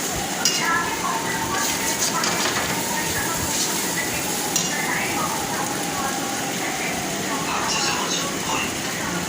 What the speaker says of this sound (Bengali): মাছটা কষানো হচ্ছে